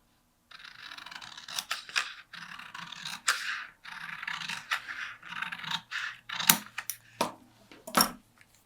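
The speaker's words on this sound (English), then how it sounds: "Then you're going to cut between the lengthen and shorten lines." Scissors cutting through a paper sewing pattern, close and quiet: a series of crisp snips and scraping slides of the blades through paper, irregular bursts with short pauses between cuts and no talking.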